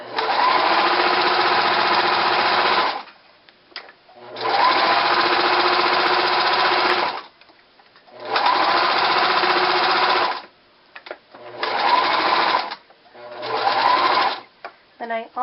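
Sewing machine stitching the ear of a plush toy, running in four long loud bursts of steady whirring with short pauses between them.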